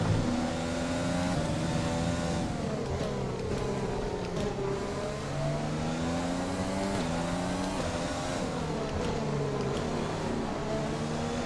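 Formula 1 race car engines in the F1 2020 video game at Zandvoort, high-pitched whining revs rising and falling steadily as several cars run close together, loud and continuous with no talking.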